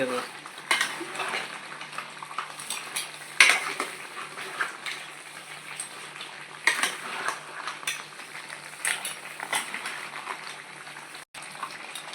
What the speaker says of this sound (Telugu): ఇలా కలుపుకొని మళ్ళీ ఇలా కలుపుకుంటే ఇంకా బాగుంటుంది మసాలా